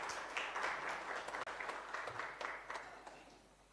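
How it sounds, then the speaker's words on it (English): An audience at a seminar applauds a speaker with steady, fairly faint clapping that carries on for several seconds and has a brief dip partway through. "Please, let's give him a round of applause."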